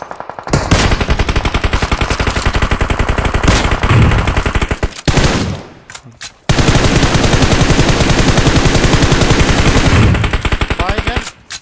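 Sustained automatic gunfire from PUBG Mobile, rapid machine-gun bursts filling most of the stretch, loud and close, with a brief pause midway before another long continuous volley.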